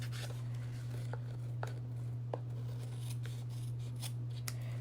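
Scissors cut cardstock for a handmade card, a series of crisp close snips spaced roughly evenly over a steady low electrical hum.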